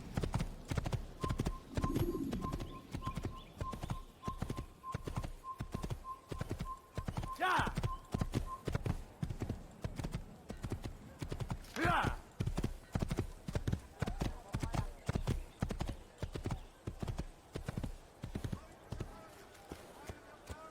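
Rhythmic hoofbeats of a horse galloping in the video game Assassin's Creed, steady and close, with a couple of brief whinny-like calls and a faint tone in the background.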